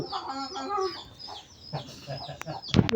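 A hen ready to lay eggs clucks and squawks repeatedly at close range, a run of throaty calls ending in a louder burst.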